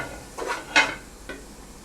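Spices stirred into beef in a cooking pot for beef sobat (bara gosht): three short scraping strokes of a spoon against the pot, close and fairly quiet, the middle one loudest.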